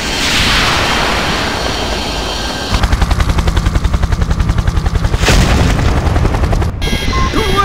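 In Project I.G.I., a helicopter's steady rotor roar gives way to rapid machine-gun fire, then a loud missile impact bursts through the cabin as the chopper is hit, followed by ongoing engine noise and further clatter.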